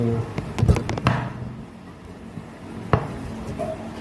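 A burst of sharp knife cuts against a board as a lemon is sliced, then a pause and one more firm cut, close by.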